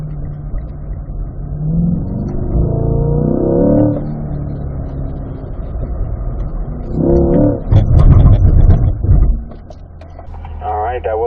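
A Chevrolet C8 Corvette on an autocross course revs and accelerates, its engine note rising in pitch through gear changes and surging hardest near the end, while an instructor speaks over the car.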